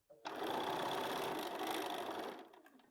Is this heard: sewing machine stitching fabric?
yes